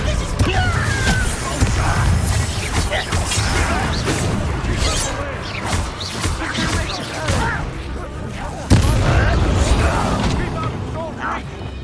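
A fiery Confringo spell blast in Hogwarts Legacy booms loudly amid continuous rumbling combat noise, with a sharp new impact near the end; a voice speaks over the battle.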